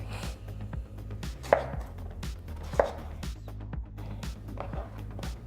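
A knife chops butternut squash and cauliflower for tacos, making a steady run of close thuds on a cutting board with two sharper, louder knocks among them.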